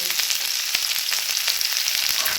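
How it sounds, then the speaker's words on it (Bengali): Sliced onion and dried red chili fry in hot oil in a pan, giving a loud, continuous crackling sizzle with sharp pops throughout. "ভালো করে মিশিয়ে নেবো ফ্রাই করে নেবো পেঁয়াজটাকে"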